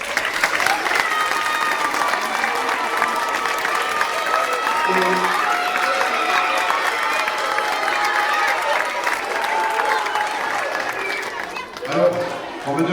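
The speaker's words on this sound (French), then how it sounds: "on peut les applaudir une dernière fois." A final round of audience applause at a school project ceremony with a choir, broad sustained clapping and crowd noise that thins near the end as voices begin to emerge.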